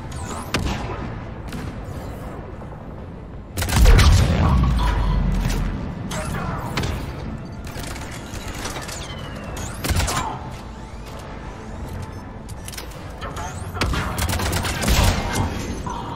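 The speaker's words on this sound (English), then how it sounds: "Those cannons have to be stopped." Cannon artillery fire in the Mass Effect 3 video game: repeated heavy booms and cracking blasts over a constant battle din, with one especially deep, loud explosion early and further bursts scattered throughout.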